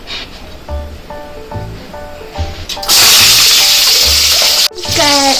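Raw onion frying in hot oil for a chicken curry, starting with soft stirring scrapes and then bursting into a loud, bright sizzle that cuts briefly and returns.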